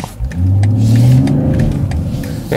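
A BMW 840i Gran Coupé engine pulls hard under acceleration, a loud, close, rising drone with tire and road roar and faint clicks over it.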